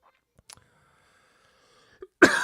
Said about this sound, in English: this stupid cough just doesn't want to give up